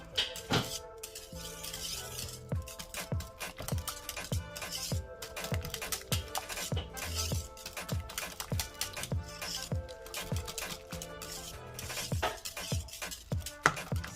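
A spoon repeatedly clinks and taps against a pot while pink salt is mixed into green plantain porridge, quick irregular knocks and scrapes at close range and fairly soft level.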